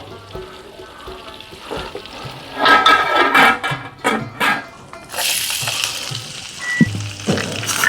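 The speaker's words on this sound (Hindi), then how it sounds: "मक्खन को पिघलने दीजिए 1 मिनट के लिए" Hot pan sizzling as butter melts for rice from Swat, with clattering stirs in the middle and a louder hiss building toward the end.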